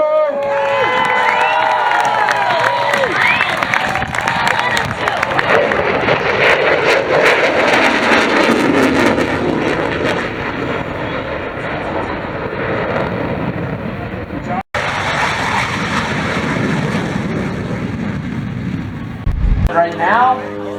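At the Battle Creek Field of Flight airshow, a Rhino demo aircraft roars loud and continuously overhead while a crowd cheers and an announcer talks over the noise.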